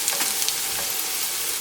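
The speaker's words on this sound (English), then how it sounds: "here the vegetables are getting sauteed" Mixed vegetables sautéing in a pan during home Indian-style cooking, a steady close sizzle and hiss of frying with light stirring scrapes, heard alone without voices.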